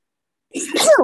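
A single loud, close sneeze bursts out on a panel stage during a cosplay game night, rising sharply and fading within about half a second, with no talk over it.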